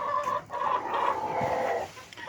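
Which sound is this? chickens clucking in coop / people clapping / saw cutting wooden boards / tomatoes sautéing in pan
chickens clucking in coop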